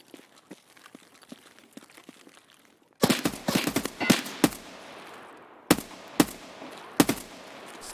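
Gunfire in the shooting game Tarkov or H3VR: faint distant pops give way to loud, close bursts of sharp shots, with several single cracks spaced out after a rapid volley.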